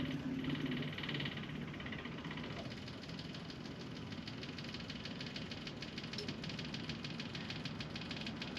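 A diesel motor runs steadily nearby, making a continuous low rumble with an even, unbroken drone throughout.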